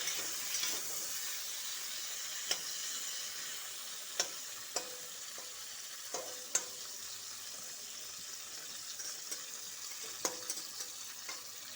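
Pointed gourd pieces are mixed with salt and turmeric in a pan, with sparse spoon clicks and scrapes over a faint, steady hiss of sizzling. No voices.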